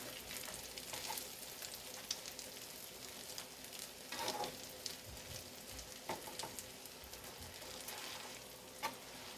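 Crab cakes frying in a small skillet, a faint continuous hiss and crackle with a few soft spatula taps, close but quiet and free of talk.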